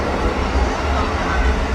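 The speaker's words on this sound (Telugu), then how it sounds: "ఇక్కడ ఉండి రైలు నడుపుతారు కావాలి వీళ్ళు." A train running in Yangon, Myanmar, a close, steady rumble of wheels and carriage with no break.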